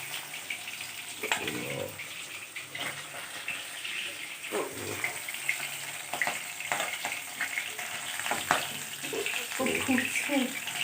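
Pabda fish curry bubbling in a covered pan in a home kitchen, a steady wet sizzle and simmer with occasional clinks and splashes.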